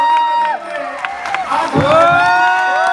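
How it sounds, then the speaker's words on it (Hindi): A festival crowd at Ratnavali in Kurukshetra cheers and whoops loudly for a welcome, a dense wash of excited voices with shouts and bright tonal calls rising over it, continuous and close for the whole stretch. "लीजिए जोरदार तालियों से स्वागत कीजिए"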